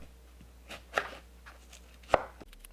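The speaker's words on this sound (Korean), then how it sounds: "감을 껍질 벗기고 먹기 좋게 잘라주세요." Persimmon, peeled for a broccoli salad, being cut into bite-sized pieces on a board, with a few knife chops spread across a quiet moment and two sharper, louder strikes standing out.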